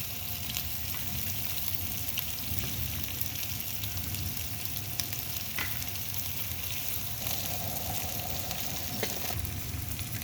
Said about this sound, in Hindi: जब ऑयल गर्म हो जाएगा तो इसमें प्याज शामिल कर देंगे।